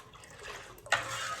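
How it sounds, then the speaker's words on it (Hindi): Water is poured into a pot of sweet rice dessert, a short light splash and trickle that rises near the end of the brief moment, close up and with no talk. "थोड़ा सा इसमें और पानी डालते हैं"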